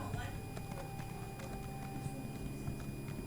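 Horse hooves clip-clop at a steady trot in The Elder Scrolls Online, a repeated rhythmic patter of hoofbeats with a faint tonal game hum underneath.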